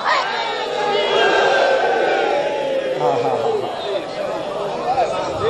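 Crowd at a religious gathering raising chanted slogans together, a dense, loud mass of voices rising and falling in waves throughout, with no single speaker standing out.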